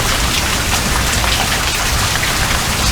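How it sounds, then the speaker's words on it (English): Steady, loud rain pours down in a backyard during a thunderstorm in Las Cruces, New Mexico, a dense continuous hiss of drops hitting surfaces with no thunder or voices. "I turned the lights on to the backyard so you can see the rain coming down."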